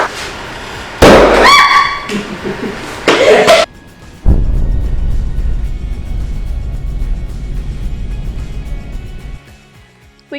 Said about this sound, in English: also got to ignite the explosions.